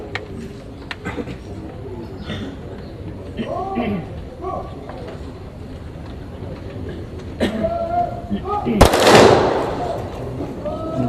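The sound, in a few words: Marine Corps honor guard firing a rifle salute volley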